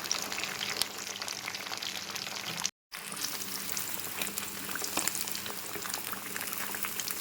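Fish fries in hot oil with a dense, steady crackling sizzle that stays loud and continuous throughout, broken only by a brief silent gap partway through.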